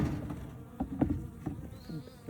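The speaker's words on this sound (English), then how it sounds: "there are a lot of bees over here because 2 of these frames have quite a bit of honey on them" Honey bees buzz around hive frames heavy with honey during a beehive inspection, a faint, wavering insect drone with a few closer passes standing out against a quiet background.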